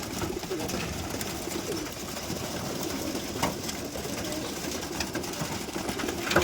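Madras pigeons coo at a home pigeon sale amid a busy, rustling background with a faint mechanical hum, the soft calls blending into continuous noise.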